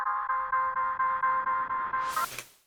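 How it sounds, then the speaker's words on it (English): A synth riser built with the auto filter frequency knob in Ableton Live: a steady pulsing tone with a rhythmic chopped envelope, brightening near the end into a short noisy sweep before fading, no talk. "this is gonna be kind of your riser"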